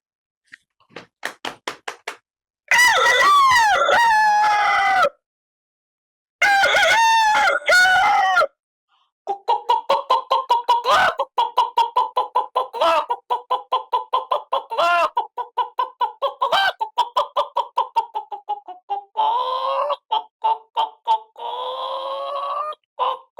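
A voice imitates an early-morning rooster, giving loud, close crowing calls followed by long runs of rapid clucking and squawks, with short pauses between bursts.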